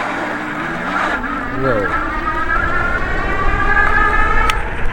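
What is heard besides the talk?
Rad Power RadRover AWD electric bike motors accelerating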